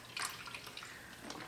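Soy milk poured from a carton into a one-cup measure splashes and splatters, a steady wet trickle with a louder burst near the start, heard alone with no talking.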